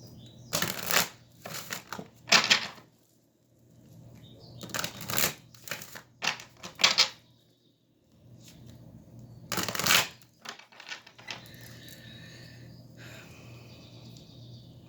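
Oracle cards are shuffled by hand in several crisp, riffling bursts separated by short pauses, close and fairly loud over a faint low hum.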